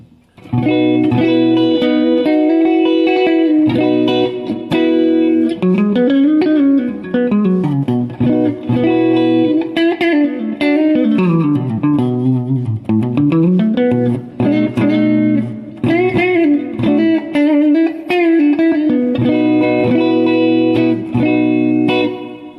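An electric guitar is played clean through a Sluckey Deluxe Reverb Lite tube amp, sounding as continuous, loud melodic lines with sliding, sustained notes throughout.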